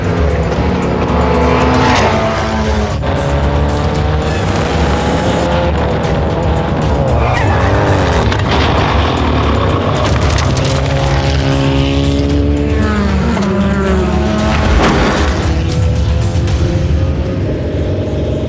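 A race car laps a track with its rear tires hopping on the NOS car program: a loud, sustained engine roar with rising and falling revs, gear changes and chattering tire noise, close and continuous with no talking.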